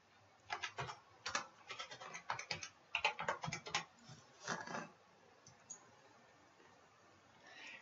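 Quick bursts of keystrokes on a computer keyboard as a name is typed in, irregular clusters of clicks with short pauses between them, fairly close and with no talking.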